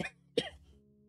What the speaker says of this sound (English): He went into a massive coughing fit